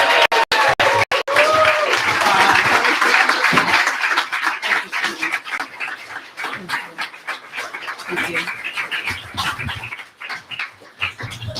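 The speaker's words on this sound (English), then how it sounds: "give a big round of applause for your legislator" Crowd at a campaign kickoff for legislator Tarra Simmons of the 23rd Legislative District claps and cheers loudly, a dense sustained wash of applause with a few sharp hand claps at the start that fades unevenly toward the end.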